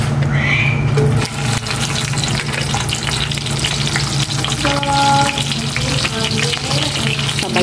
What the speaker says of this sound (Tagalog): Prito ko muna itong talong tsaka saging na saba.